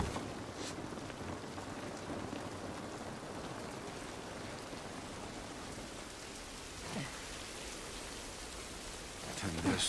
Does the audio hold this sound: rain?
yes